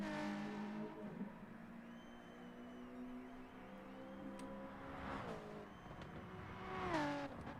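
Race car engines in a GT4 sim racing game, a steady droning whine with shifting pitch as cars pass and accelerate, rising near the end, fairly quiet with no talk over it.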